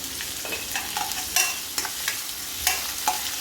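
Onions with curry leaves and salt sauté in a hot pan for barnyard millet semiya, giving a steady close sizzle broken by repeated scraping stirs of a spatula against the pan, with no voices.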